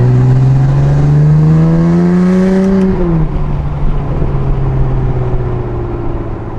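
A BMW F80 M3 with prototype equal-length midpipes revs loudly and close, the exhaust note climbing steadily for a few seconds, then dropping and settling into a rough, buzzy drone.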